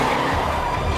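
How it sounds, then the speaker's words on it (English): A car skids hard in a movie action scene, a loud, close tire screech with rumbling engine and road noise filling the whole short burst. "The car crashes."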